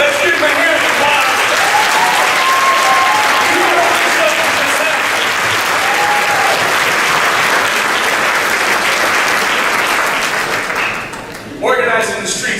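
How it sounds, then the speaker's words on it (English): Audience applause honoring host committee volunteers at a 2017 CBTU gathering, steady and loud for about eleven seconds before thinning out, with crowd voices mixed in. "Let's give them a hand of applause"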